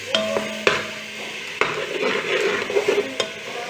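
Vegetables with capsicum and tomato sizzle in a pan for chana pulao while a spoon stirs and scrapes, sharp clinks cutting through the crackling fry at irregular intervals.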